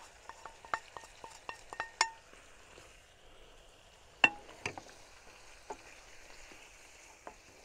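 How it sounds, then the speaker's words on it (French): A utensil scrapes and clinks against a saucepan in quick irregular strokes while stirring tomatillo salsa verde, with a faint sizzle in the quiet background. "Mélanger tout ça."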